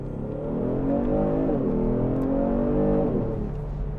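Heard from inside the cabin, a 2020 Genesis G70 luxury sport sedan accelerates hard, its engine note climbing steadily and loudly through the gears with brief dips at the shifts, and no talking.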